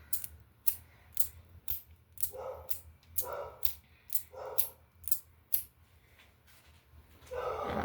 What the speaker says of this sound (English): he'll start going off barking first, and then she'll follow his lead